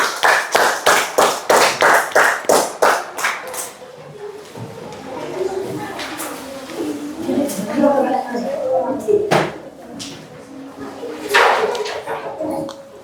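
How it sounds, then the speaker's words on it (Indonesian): A class of third-grade children claps hands together in a quick, loud rhythmic burst of about a dozen beats, followed by scattered claps and a teacher's voice talking over classroom chatter. "Tepuk tangan buat kita semua."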